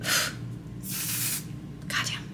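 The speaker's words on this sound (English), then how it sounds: "this is the one size setting spray, and basically every time I spray it, I gas myself out" Setting spray misted from a pump bottle in three short hissing bursts, close and fairly soft, with quiet room tone between sprays.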